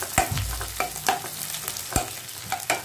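Food frying in a pan for homemade restaurant-style biryani is stirred, with several sharp utensil scrapes and clinks over a low sizzle, close up.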